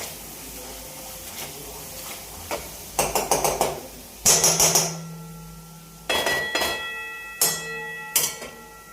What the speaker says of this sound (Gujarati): અને ફરીથી એકવાર એને મેશ કરી લઈશું।